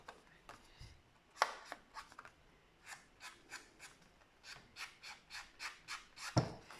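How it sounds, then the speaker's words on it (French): An ink pad scrapes along paper edges to darken them, giving a quiet series of short, dry rubbing strokes in a fairly regular rhythm, heard close and alone. "je passe mon tampon comme ça, pour juste foncer les bords"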